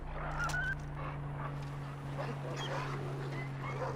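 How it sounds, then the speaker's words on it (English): Wild dogs bark in the video game Far Cry 3, several short yelps and barks rising over a steady low hum and ambient game sound, moderately close. "Let's avoid the wild dogs if I can."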